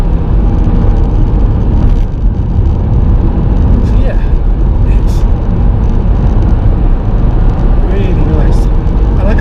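A Mk2 Seat Leon Cupra on its standard engine map drones loudly and steadily from inside the cabin while driving, with road roar running throughout and no pauses.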